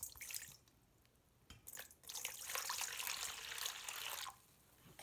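Vinegar poured into a container for a baking soda science experiment, a faint trickling pour in two bursts, the second longer and steadier, with quiet handling between them.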